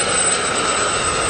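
Gazelle helicopters fly past at an air display, a steady, loud broadband rotor and engine roar filling the clip with no talk over it.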